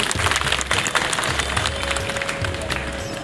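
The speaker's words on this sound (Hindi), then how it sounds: "जोरदार तालियां बजनी चाहिए" A seated crowd at the Jaunpur Maha Utsav festival gathering in a party plot in Ramol, Ahmedabad, applauds with loud, dense, sustained clapping close by.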